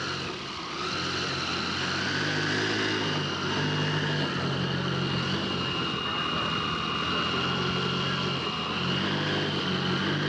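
Steady buzzing drone of a small propeller engine on a scale model Super Cub airplane, loud and continuous throughout, with a slight rise and fall in pitch as it flies.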